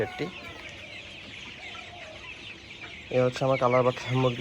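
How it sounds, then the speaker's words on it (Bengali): A shed of about a thousand 27-day-old colour bat chickens clucks as a dense, nearby chorus, soft at first and then swelling into loud, busy clucking in the last second or so. "তো এখানে আমার 1000 মুরগি আছে"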